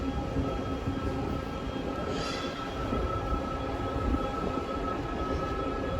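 A TTC rapid transit train rolls through the turnaround loop at Kennedy station, a steady rumble and hum of rail cars with a brief higher squeal partway through, moderately distant and without voices.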